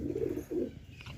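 Pigeons coo softly while feeding, two low rolling coos close together followed by a faint chirp, quiet and near, with no talking.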